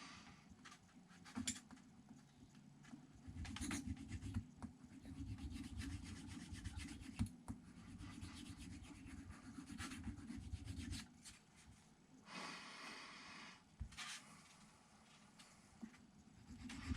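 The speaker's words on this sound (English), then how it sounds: "So a little bit of sandpaper or a file will do that for you." Sandpaper or a file roughs up glider parts on an electric model glider build, producing a faint, close, repeated rubbing and rasping in short strokes with brief pauses.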